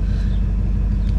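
A 1998 Jeep Grand Cherokee with a freshly replaced 5.9 V8 engine idles with a steady, deep, close rumble for a brief moment, nothing else audible over it.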